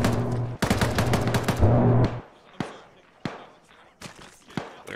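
Rapid automatic gunfire rattles in an Arma firefight, a dense burst of shots for about two seconds followed by scattered single reports and short bursts echoing at varying distances, with voices over the shooting.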